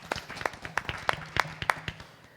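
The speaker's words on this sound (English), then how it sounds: "let's give them all a wonderful round of applause, please" A small audience at an evening spiritual gathering claps for young presenters, a handful of distinct, fairly close claps in an uneven rhythm that thins out toward the end.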